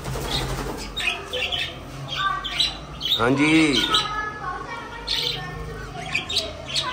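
Many birds chirp, tweet and squawk outdoors, with a loud harsh call standing out midway and wing flutters among steady chatter; someone speaks briefly over them.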